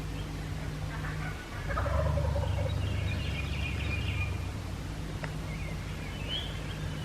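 Faint wild turkey hens gobbling and yelping in the distance over a low steady outdoor hum, with a few soft rustles.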